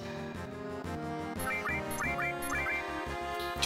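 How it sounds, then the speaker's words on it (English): A giant bird enemy in the Final Fantasy VII video game attacks from the rear, repeated squawking quacks ringing out over looping battle music that drives along in a steady beat. "a giant bird is attacking us in the rear"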